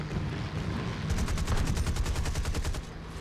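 Rapid bursts of aircraft gunfire in a flying video game, a loud rattling volley against a steady engine drone, with no talking.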